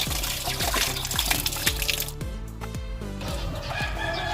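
Sap-sap and hiwas fish are rinsed in water before cooking, with steady splashing and sloshing at close range and a rooster crowing in the background.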